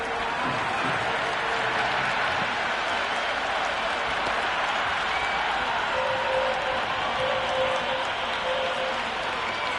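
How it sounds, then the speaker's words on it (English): Crowd applause and cheering from a cricket match in the Cricket 26 video game on PS5, a steady, dense roar of clapping filling the whole stretch with faint commentary voices underneath. "It's almost palpable, the excitement emanating from this crowd at the moment."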